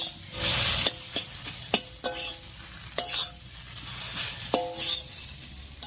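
Spice paste is sautéed with fried shola kochu in a pan, sizzling steadily while a spatula scrapes and clinks against the metal in irregular strokes, close and clear, with no voices.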